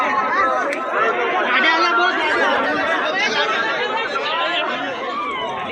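A dense crowd at a bullock cart race ground chatters loudly and continuously, with many overlapping voices close by filling the whole span.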